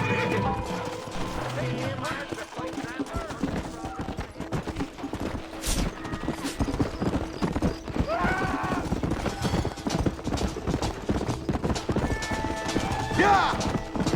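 Horses in the Red Dead Redemption video game clip-clop at a steady gallop with neighs and whinnies, mixed with gunfire bursts, game sounds and some talk.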